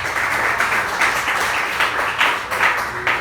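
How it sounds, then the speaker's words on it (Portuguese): A church congregation at a youth service applauds, a steady wash of many hands clapping at moderate loudness with a few louder swells, no talk over it. "Aplauda Jesus"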